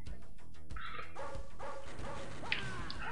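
Dogs bark repeatedly in the NARC video game soundscape, the barks loud and choppy amid music and effects.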